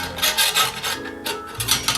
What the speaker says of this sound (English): I'm gonna hit it with a hacksaw and take a good guess at it